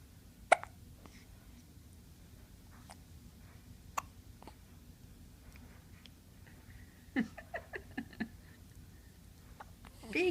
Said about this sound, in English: to get rid of those hiccups